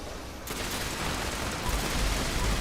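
Rapid gunfire in Fallout 76 bursts out after a brief lull, a dense sustained clatter of shots that keeps going without a break, loud and close, with no one talking over it.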